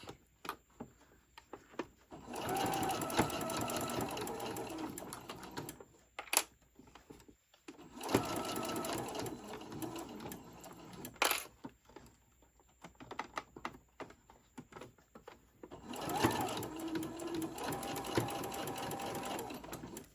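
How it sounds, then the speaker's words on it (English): A sewing machine stitches a ruffle onto a tote bag at a longer stitch length, running in three close bursts of rapid needle chatter separated by short pauses with handling clicks, no talking. "Now I've officially got my ruffle sewed on."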